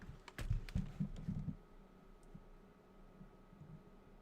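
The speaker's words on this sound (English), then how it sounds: "It's a Logitech keyboard." Quick, close taps on a Logitech K520 computer keyboard, a burst of clustered key clicks in the first second and a half, then only scattered faint ticks over low room hiss.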